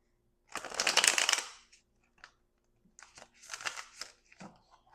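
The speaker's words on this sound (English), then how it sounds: "One more shuffle." A deck of mystical dream oracle cards is shuffled in two close, crisp bursts of riffling and flicking paper, separated by a brief pause and a few soft taps, in an otherwise quiet room.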